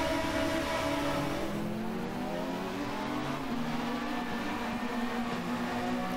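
Volvo S40 race car in a racing video game, its engine droning loud and steady along the straight, pitch climbing gradually with a continuous roar and no talk.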